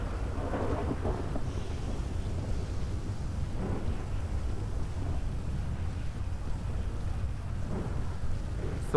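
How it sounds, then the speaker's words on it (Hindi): Heavy rain and rolling thunder in the video game GTA V, a dense steady roar of downpour with deep rumbles swelling and fading throughout, loud and continuous with no voices. "बारिश बहुत तेज है"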